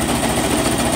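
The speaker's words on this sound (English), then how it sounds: "I'm just going to quickly stitch around it" Sewing machine stitching quickly around coffee-dyed fabric scraps, a steady, continuous mechanical whir with rapid rhythmic needle clatter, close and fairly loud throughout with no talk.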